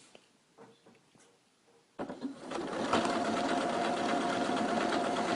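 An elna eXcellence 760 sewing machine starts up and stitches continuously at close range, a steady whirring, rapid mechanical chatter following a few soft handling clicks.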